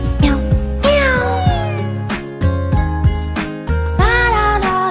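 A male singer imitates a cat with his voice, giving a run of about seven or eight close, loud, tuneful meows in a playful rhythm, each one sliding in pitch.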